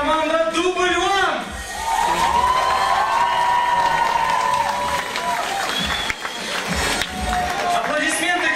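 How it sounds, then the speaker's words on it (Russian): Crowd cheering and whooping at a children's team competition event, loud shouts and sung or called voices rising over clapping, with a short dip before the noise swells again near the end. "Аплодисменты, друзья!"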